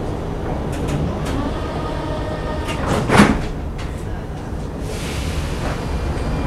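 Inside a Prague metro train at a station, the doors slide shut with a short thump and the carriage begins to move off, a steady rumble with a rising hiss as it gets under way.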